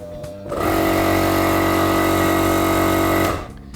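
A loud, strained air compressor motor drone starts abruptly and holds steady for a few seconds at a labored, stalling pitch before cutting off.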